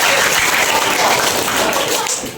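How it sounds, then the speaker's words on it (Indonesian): Dense, loud clapping from a classroom of students, a continuous roar of hands close by with no gaps, trailing off slightly at the end. "tepuk tangan yang meriah"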